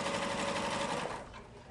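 A Janome MC6600 sewing machine stitches fabric in a steady, fast mechanical whir that runs close and continuous before easing off near the end.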